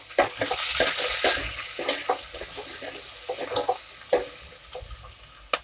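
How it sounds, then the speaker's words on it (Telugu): Sliced onions and a sprig of curry leaves frying in a pan for a sprouted horsegram curry, with crackling sizzle and scattered pops plus an early burst of hissing, fairly close and with no talk. "ఇప్పుడు ఇందులోనే ఒక రెమ్మ కరివేపాకు, ఉల్లిపాయ ముక్కలు బాగా ఎర్రగా అయ్యేంత వరకు వేయించుకున్నాము"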